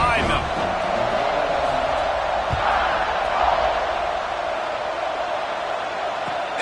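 A dense stadium crowd roars steadily at an American college football kickoff, a broad, continuous wash of noise with a few thuds, while a commentator talks over it.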